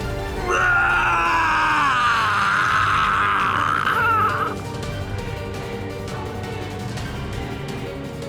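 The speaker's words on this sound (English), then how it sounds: "His dying scream rises to the heavens." A vampire's drawn-out, wavering dying scream from the visual novel Tsukihime rises loud for several seconds over a droning musical score, then cuts off and leaves the music alone.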